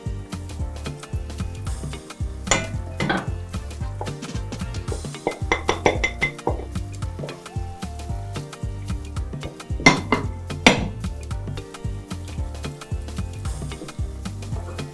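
Metal utensils scrape and clink against a cooking pot while stirring a frying tomato sauce with spices for Nigerian meatballs, in repeated strokes with a few sharper knocks, close by and with no talking.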